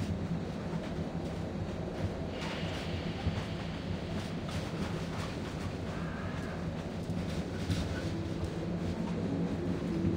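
A train runs on rails with a steady, dense rumble and rhythmic clatter throughout, heard from inside a carriage at moderate level, with faint higher tones drifting in and out.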